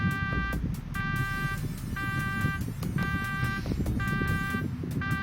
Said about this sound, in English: Just kind of listen to this damn alarm.